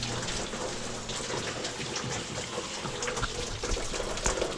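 Antifreeze draining from a 2007 Chevrolet Silverado during a water pump replacement, a continuous close gushing, splashing pour of liquid into a catch container.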